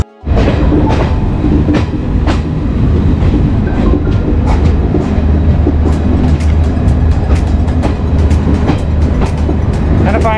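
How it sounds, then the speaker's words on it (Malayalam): A passenger train slowing as it approaches a station rumbles loudly and steadily, with repeated sharp clicks of wheels over rail joints growing more frequent toward the end. "ട്രെയിൻ സ്ലോ ഡൗൺ ചെയ്തിട്ടുണ്ട്."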